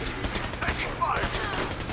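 Rapid bursts of gunfire in the Fallout 4 video game crackle in a quick volley over two seconds, mixed with faint game effects and a brief voice.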